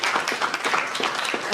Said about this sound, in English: give a round of applause to the Strive team